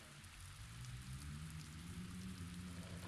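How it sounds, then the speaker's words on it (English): Steady, loud rain pouring in through a hole in a broken window in a video game, a dense continuous hiss of drops hitting surfaces with a low rumble underneath, no voices. "The hole in the window lets cold wind and rain enter the room."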